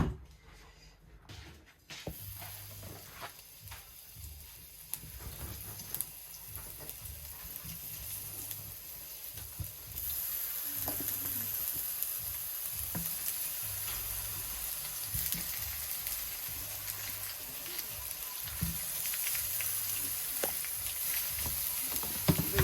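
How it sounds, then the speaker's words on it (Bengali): Food frying in mustard oil in a pan while making an eggplant mash dish, a steady sizzle and hiss running throughout, with brief stirring sounds. "মাস্টার অয়েল দিয়া গুলারে ফ্রাই করে নিমো"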